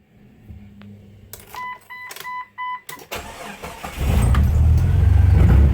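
Jeep XJ engine running through a straight pipe with the muffler removed, a rough low rumble building to a louder, steady exhaust roar near the end after some brief tonal beeps and clatter.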